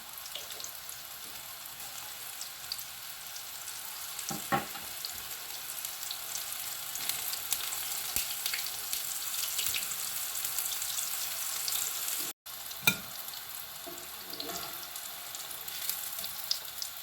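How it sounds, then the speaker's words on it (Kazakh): Breaded onion rings fry in hot oil, giving a steady close crackling sizzle that holds evenly throughout, with a few louder pops and a brief drop to silence near the end. "Енді осы майға қуырып аламыз."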